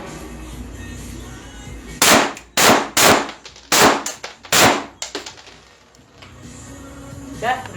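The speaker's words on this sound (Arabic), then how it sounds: "دلوقتي هنجرب مع حضراتكم المسدس." Retay Baron blank pistol, a replica firing loud blank rounds, test-fired in a string of about seven sharp, close cracks spaced unevenly over several seconds, followed by quieter clicks and handling.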